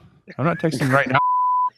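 A steady, bright censor bleep tone cuts in right after a burst of close conversational speech, holding for about half a second over a spoken name before stopping abruptly.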